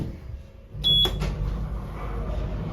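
A short electronic chime sounds once inside a hydraulic passenger lift cab, a Johns & Waygood unit modernised by Otis, over a steady low hum of machinery.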